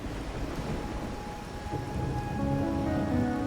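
Steady rain falls during a rainy-night cutscene in the video game Wuthering Waves, a dense hiss with a low rumble beneath and soft music tones rising toward the end.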